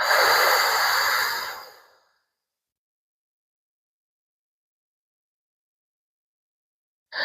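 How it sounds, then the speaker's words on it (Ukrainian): Slow, breathy exhale in a breathing exercise, close and steady for about two seconds before fading into silence, with a brief breath returning at the very end. "І повільний видих 8 секунд"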